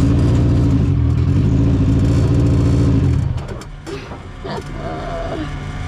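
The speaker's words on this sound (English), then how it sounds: "Little bit more gas when you're letting off the clutch." A Legends racecar engine revving loudly up close as the clutch is let out, a throaty rising drone that drops off abruptly after about three seconds into rattling idle and clatter.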